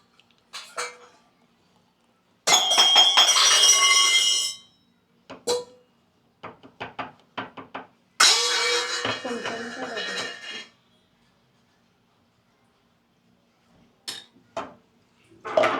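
Freshly washed steel pots and dishes being stacked away in a home kitchen, sounding as clattering bursts and clinks in a few separate spells with short gaps of quiet between them.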